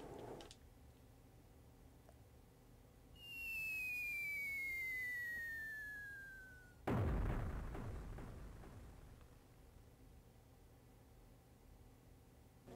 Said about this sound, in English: There were fireworks inside.